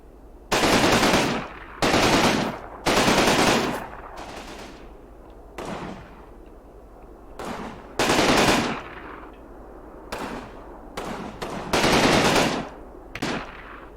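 Heavy machine guns firing in the World War II strategy game Combat Mission, loud sustained bursts of roughly a second each, broken by short gaps and quieter distant shots.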